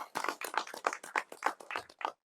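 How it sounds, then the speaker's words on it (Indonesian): Quiet, distinct handclaps ring out in an irregular rhythm of about a dozen sharp slaps as an audience welcomes a speaker at a gathering, faint and close, then stop abruptly. "Tepuk tangan teman-teman sekalian."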